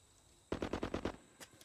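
Gunfire in a Bollywood action film scene: a rapid burst of about six loud automatic shots in quick rhythm, followed by a couple of fainter trailing pops, with no talk.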